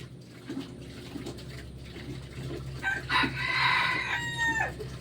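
A labuyo, a red junglefowl rooster, crows once, loud and fairly close, after some soft clucking and rustling, with no talking.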